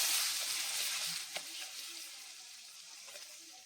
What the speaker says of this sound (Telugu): మసాలా అంతా వేసి కొంచెం మంచిగా ఫ్రై చేసుకొని